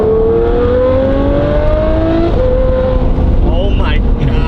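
Lamborghini Murcielago with a manual conversion, its engine revving with a rising then falling tone, loud and close, mixed with some chatter from people nearby.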